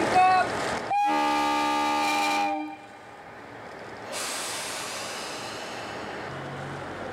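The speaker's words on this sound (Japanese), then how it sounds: "頑張ろう能登のヘッドマークを掲げた一番列車が6時12分に出発し" A Noto Railway first train's horn sounds in a sustained blast, then gives way to the rumble and rising hiss of the train pulling away on the reopened Nanao–Anamizu line in Japan.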